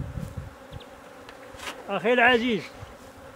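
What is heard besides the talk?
honey bees buzzing around the hive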